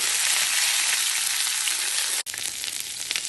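Curry leaves and fenugreek seeds sizzle in hot coconut oil for a Kerala spinach and egg thoran, a loud, crackling, even hiss that cuts out for an instant before resuming.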